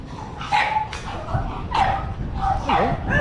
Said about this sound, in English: Just come across a shit ton of dogs